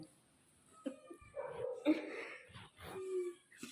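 Stray mother dog making short barks and whimpering yips in bursts, fairly close, with faint human voice traces between the sounds.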